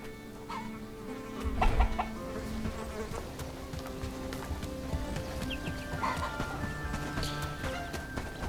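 Chickens cluck softly in the video game Bellwright, faint scattered clucks over a low buzzing farmyard ambience with a few brief louder bumps and no talking.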